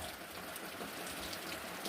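Rain falls steadily, a dense even hiss of drops close by, with no talking.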